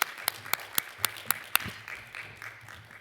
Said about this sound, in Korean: 박수로 축복해 주십시오.